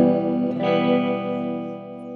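Electric guitar played through a Time Machine digital delay pedal into a Vox AC50 amp, a sustained distorted chord ringing with repeating echoes that slowly fade.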